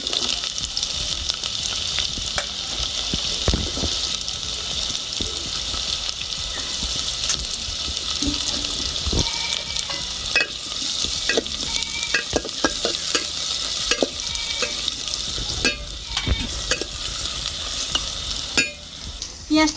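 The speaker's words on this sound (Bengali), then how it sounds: "এই যে এইবারে দিয়ে দেবো পেঁয়াজ কুচি।" Chopped onions frying in ghee with whole garam masala, a dense, steady hiss of sizzling oil close up, with scattered clicks and scrapes of stirring throughout and no voices.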